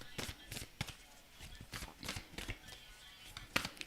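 Oracle cards are shuffled by hand in quick, soft riffling bursts, a rhythmic series of faint close-up flutters and taps with short pauses between them.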